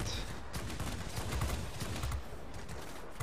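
Sustained, dense machine-gun fire rattles in a dogfight in World of Warplanes, with a Chinese tier 8 JL-1A-37 fighter taking a heavy burst of hits near an airfield, loud and continuous without pause.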